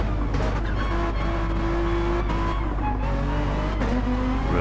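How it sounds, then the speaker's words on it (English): Race car engine held at high revs with broad continuous roar and rising tonal whine, loud and close, with a possible brief tire squeal. "Really revving it there."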